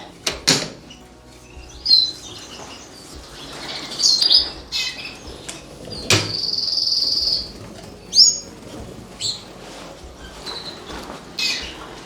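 Young birds in indoor flight cages flutter and flap in short bursts, with sharp chirps and a steady insect-like trill in the background; fairly faint and close.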